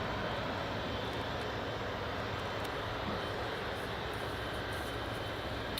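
An Emirates airliner taxiing at Newcastle International Airport, giving a steady, broadband jet-engine roar from a distance that stays constant with no clear rise or fall, with no speech over it.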